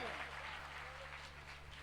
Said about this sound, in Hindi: तालियां जोरदार बजाइए।